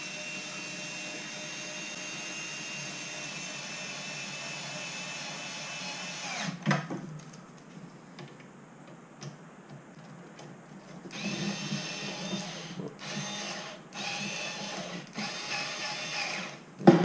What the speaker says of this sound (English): Swap to my mechanized screwdriver.